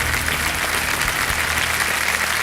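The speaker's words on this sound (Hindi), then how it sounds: "तालियां बज जाएं इनके लिए" Studio audience on a quiz show bursting into loud, sustained applause with crowd noise, dense and even throughout, backed by low show music.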